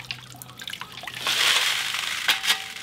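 Gravel being shaken in a sapphire screen submerged in water while mining Montana sapphires, giving a steady close sloshing and rattling wash that swells in the middle, with a few sharper splashes near the end.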